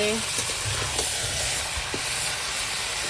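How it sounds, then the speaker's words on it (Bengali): Goat meat with ground spice paste frying over a wood fire, a loud, dense, unbroken sizzle and hiss close by, with faint stirring knocks underneath. "দেখো খাসির মাংস রান্না হচ্ছে আর এভাবে সিলেবাটা মশলা কাঠের জালে একবারে কষিয়ে কষিয়ে রান্না হচ্ছে"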